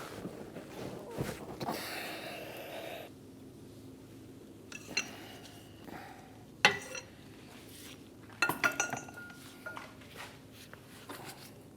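A wrench breaks free the 12 mm hub bearing bolts on a 2011-2016 Hyundai Elantra's rear wheel hub, making a series of sharp metallic clanks and ratchety clicks spaced irregularly, with quieter rustling and handling noise between them.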